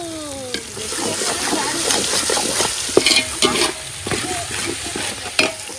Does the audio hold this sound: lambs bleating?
no